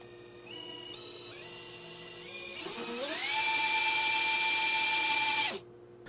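A GEPRC 1206 4500kv brushless drone motor spins up in steps to a high, steady whine with bright harmonic overtones, growing louder before cutting off abruptly near the end.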